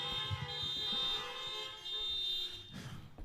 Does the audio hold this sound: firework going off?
no